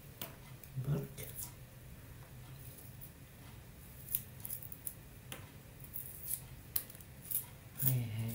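Scissors snipping while preparing food, likely garlic, in a home kitchen, a few quiet crisp cuts scattered over a faint background, with light handling noises and occasional soft talk.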